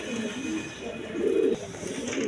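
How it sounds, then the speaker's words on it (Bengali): A pair of red Rajgolla pigeons coo nearby, a low throaty murmur that builds into one louder drawn-out call midway, then settles back into quieter cooing. "এখানে এক পেয়ার কবুতর আছে, নিউ মডেল কবুতর, আপনার রাজগোল্লা কবুতর"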